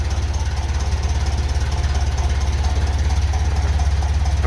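A Ferguson FE 35 tractor running on TVO idles at a low 500 rpm, a steady, loud, close rhythmic chugging with even low-pitched beats and no voices.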